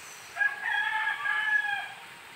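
A rooster gives one full crow, a long drawn-out call lasting well over a second, fairly close and clear against a quiet outdoor background among many chickens.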